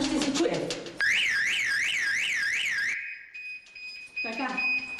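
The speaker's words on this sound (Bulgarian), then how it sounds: "сега алармата ще се чуе" An alarm system goes off, a loud electronic siren sweeping up and down in rapid warbles, then switching to a steady high beep and other tones over several seconds.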